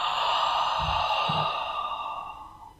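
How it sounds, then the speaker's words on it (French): A long, breathy ujjayi exhale through a constricted throat during yoga practice rasps steadily for nearly three seconds, close and loud, slowly fading at the end, with no talk over it. "faire racler l'air ici au niveau de la gorge et que ça fasse une respiration sonore"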